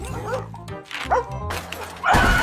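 Dog barking and yipping in short bursts, close and fairly loud, with a whimpering tone at times and a harsher burst at the end.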